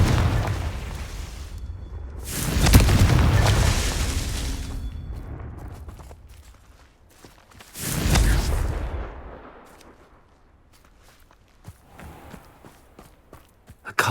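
Two heavy booming blasts of the Confringo fire spell in Hogwarts Legacy, each a loud close burst with a rumbling decay, several seconds apart, followed by scattered light footsteps and small knocks.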